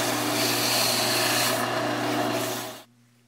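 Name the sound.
sanding a wooden cigar pen blank on a lathe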